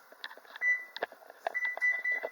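A kitchen oven timer beeps in a series of short, bright electronic tones while it is being set, with faint handling noises around the button presses.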